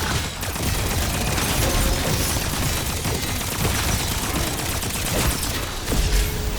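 Raygun MK2 variant firing in a Call of Duty zombies match on the Shattered Veil map, a loud, dense wash of energy-weapon blasts and game effects filling the whole span with little break.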